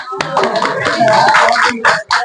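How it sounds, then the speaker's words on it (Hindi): Classroom students clap hands together in welcome for a guest, a dense patter mixed with chatter and voices that pauses briefly near the end. "ताली बजाओ"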